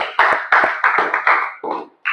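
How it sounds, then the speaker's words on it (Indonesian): A class of students clapping their hands in a classroom, several loud rhythmic bursts of applause close by, pausing briefly before a final burst. "Tepuk tangan."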